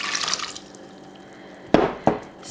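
Water is poured in while making pumpkin coffee syrup, a faint trickle at first, then two short, loud splashing pours close by.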